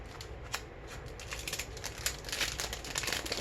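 Sheets of colored craft paper from a crafting subscription kit being handled, with soft close crinkles, rustles and light taps in an irregular rhythm, quiet and without speech.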